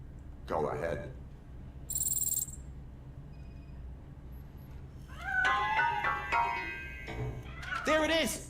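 A cat meows in the RoboCop Rogue City video game, with several drawn-out, wavering cries, some close and loud. People speak in between, and a brief electronic tone is also heard.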